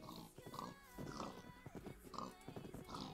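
Pigs in the game Minecraft: Sky Factory 4 give repeated oinks and snorts, quiet and close, in short bursts over a faint steady background with no talk.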